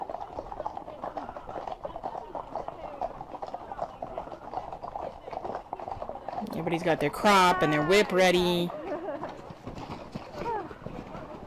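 Horses' hooves clip-clop in a steady, rapid rhythm close by, running under a person talking, with a brief louder harmonic burst partway through.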